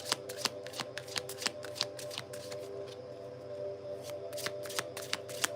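Tarot cards being shuffled close up, a run of crisp riffling clicks and snaps in quick bursts over a steady low hum, with no talk.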